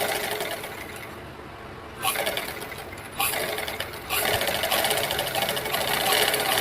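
A sewing machine runs in short stitching spells on a lined blouse, sewing along the neckline over the lining, its rapid mechanical whir starting and stopping, then holding steady through the last few seconds.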